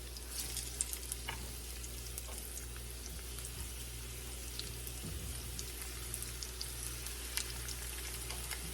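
Chicken pieces for sweet and sour chicken fry in a pan of hot oil, giving a steady, even sizzle and hiss throughout with faint crackles on top.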